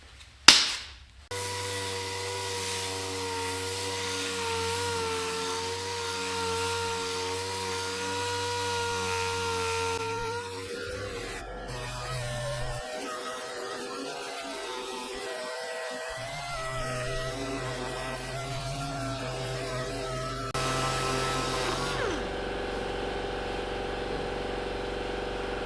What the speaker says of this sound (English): So let's get doing a little sanding on this thing.